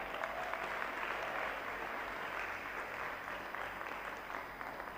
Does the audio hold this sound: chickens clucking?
no